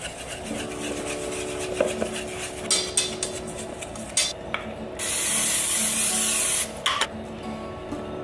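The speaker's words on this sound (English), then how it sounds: "And you spray the top with oil as well." A few light clinks and taps of kitchenware, then a long hissing spray of cooking oil onto a baking dish lasting about two seconds, followed by a short burst and more soft clatter.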